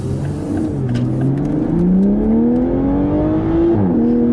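A Toyota GR Supra heard from inside the car as it accelerates hard, its engine note climbing steadily and then dropping sharply on a quick gear shift before rising again. The sound is loud and close, with no talk.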